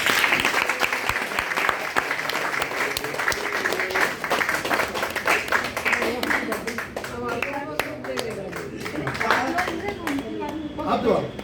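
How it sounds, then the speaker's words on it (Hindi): Guests at a second birthday party clap continuously, with some sharp individual claps standing out, while voices talk and sing over the applause in the later part. "तालियां बजाते रहिए"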